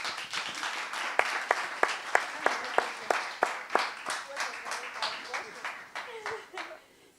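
An audience applauds a team on stage at a creativity event, steady clapping with a few loud individual claps standing out, fading away near the end.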